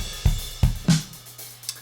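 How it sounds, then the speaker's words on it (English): Unprocessed live drum kit loop from Logic's Apple Loops, a few dry kick and snare hits with a light cymbal tick, moderately loud and without other sound. "It's a pretty simple drum loop,"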